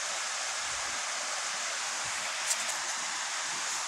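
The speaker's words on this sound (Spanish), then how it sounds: "Aquí en el río." A river runs steadily where a fisherman is catching small mojarra with worm bait, a constant broadband rush of flowing water heard alone at moderate, even level with no talking.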